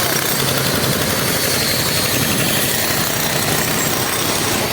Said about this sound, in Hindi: तो देख सकते हैं किस प्रकार से ड्रिल मशीन से तोड़ा जा रहा है